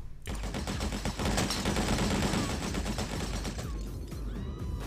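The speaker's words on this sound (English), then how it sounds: "Shouldn't have been running in front of a gunfight, you know?" A gunfight in Hitman Contracts, with dense overlapping gunshots and automatic fire rattling continuously for several seconds, loud and close, with no talking.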